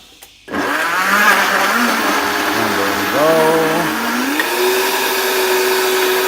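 A blender churns thick Hatch chile salsa while a plunger pushes the mix down, starting abruptly after a brief quiet moment and running loud and steady with its motor pitch rising and shifting as the load changes.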